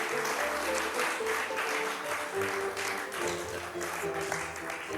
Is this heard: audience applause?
yes